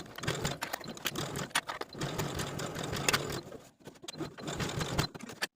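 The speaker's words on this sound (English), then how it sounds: "Start sewing across that folded edge and all the way around until you sew back across that folded edge on the other side" A domestic sewing machine stitches a sleeve cuff seam in rapid bursts of close mechanical whirring and ticking, pausing briefly midway before starting again, with no voices.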